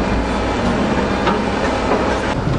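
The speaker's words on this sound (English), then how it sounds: "The jaws are ripping trains apart." In a scrap yard, machine jaws rip apart trains with heavy, continuous grinding and rumbling of metal, with occasional sharp screeching accents, loud and close.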